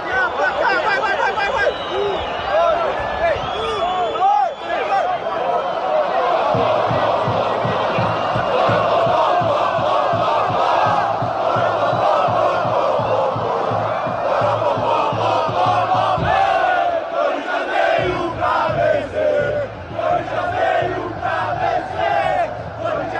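Corinthians fans chant the poró-popó together with the players, a dense, loud crowd chant with a pounding, rhythmic drum-like pulse that carries on throughout.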